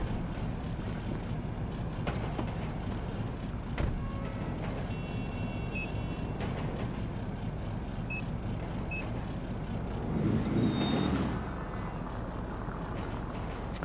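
A BMW car engine in GTA 5 hums steadily and loudly throughout, with a swelling surge near the end and a few faint beeping tones over the drone.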